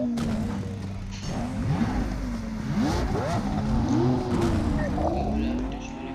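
A car in the video game BGMI drives hard and skids, its engine repeatedly revving and swooping in pitch with bursts of tire squeal, close and continuous.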